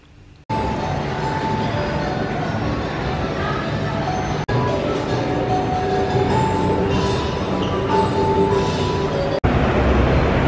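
A Singapore train ride, with steady loud rumbling and rolling noise throughout and a few abrupt clicks, carrying faint background voices.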